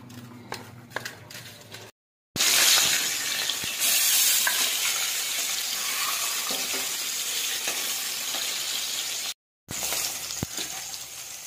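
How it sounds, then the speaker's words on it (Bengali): Fish coated in salt and turmeric frying in a pan, a steady loud sizzle with stirring scrapes, broken by two brief silences. "মাছ ভাজা হয়ে গেছে, এবার নামিয়ে নেব"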